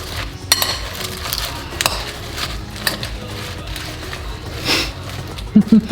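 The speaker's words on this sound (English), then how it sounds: "And then we mix it all up." Food is stirred and mixed in a bowl at home, with irregular clinks and scrapes of a utensil against the dish, fairly close, over quiet kitchen background noise.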